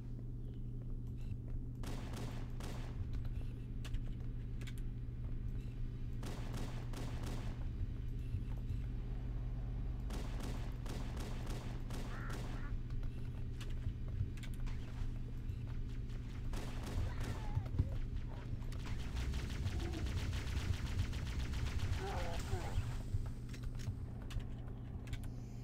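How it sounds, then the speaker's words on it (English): Gunfire from the video game Halo CE as grunts are shot: scattered bursts of rapid shots, some clustered into quick volleys, over a constant low engine-like drone. "I'm gonna go shoot these grunts"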